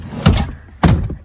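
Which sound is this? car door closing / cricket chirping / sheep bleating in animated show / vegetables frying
car door closing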